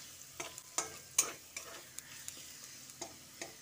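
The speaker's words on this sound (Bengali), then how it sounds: "টমেটোটা দিয়ে একটু নেড়েচেড়ে দিচ্ছি" Chopped medium tomato being stirred in a frying pan: a soft background sizzle broken by repeated scraping strokes of a spatula, roughly every half second, close and fairly quiet.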